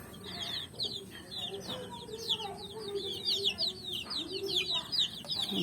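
Chickens on a small family farm give a busy run of high chirps and low clucks close by over a constant outdoor background, with a person's voice faintly audible underneath at times.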